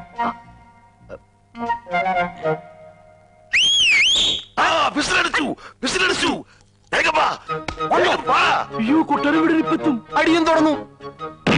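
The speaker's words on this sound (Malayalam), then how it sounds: "ഒരു വിസിൽ അടിച്ചാ മതി" A loud, trilling whistle blown as a signal in an old Malayalam comedy film scene sounds once near the middle, among stretches of talk and other scene noises.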